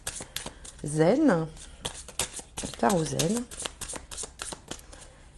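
Tarot cards being shuffled in quick riffling bursts and flicks under a voice speaking steadily throughout, with a couple of sung-like pitched vocal swoops layered over the card noise.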